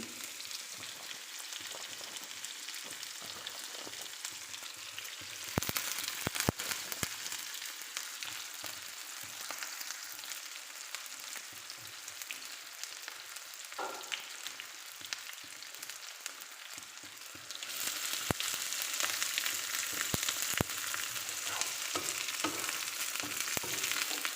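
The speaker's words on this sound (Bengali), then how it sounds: "এখন কিছুটা জিরা দিয়ে দিচ্ছি পেঁয়াজ কুচি দিচ্ছি" Cumin seeds and chopped onion fry in hot oil in a pan for an okra stir-fry, giving a steady, close sizzle with bright crackling and occasional stirring, no voices.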